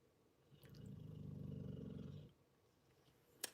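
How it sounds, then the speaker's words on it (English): A dog snores nearby in one long, low, rumbling breath lasting almost two seconds, quiet and steady, followed by a short sharp click. "Sorry for the dog and the snoring again."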